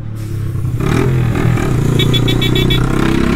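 A Honda Fan 125 motorcycle with a straight exhaust pipe and no end tip rumbles loud and close on an avenue, its rough, pulsing exhaust rising as it revs, with a short run of high rattling clicks.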